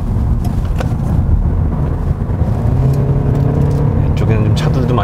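A Kia K7 2.5 GDI four-cylinder engine drones steadily from inside the cabin, a constant low hum with whirring road noise and a voice talking over it; quiet at low speed, louder at high speed.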